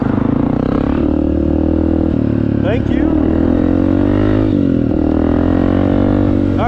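A Honda dirt bike fitted with an FMF exhaust revs loudly and steadily close by, its droning engine note rising and falling over the whole stretch, with a brief spoken thanks in the middle.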